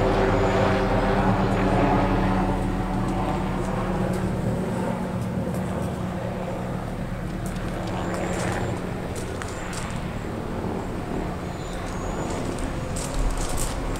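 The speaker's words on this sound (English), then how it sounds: "helicopters flying over the greenhouse" A police helicopter drones overhead at a distance above a greenhouse, a steady broad whir with a low rumble that lingers throughout.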